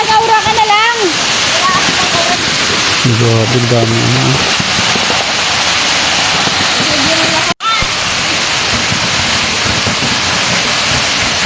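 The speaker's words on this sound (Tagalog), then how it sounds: "Malakas ang tubig ngayon kasi umulan." A powerful waterfall, swollen after rain, roars continuously, loud and close, while people talk over the rushing water.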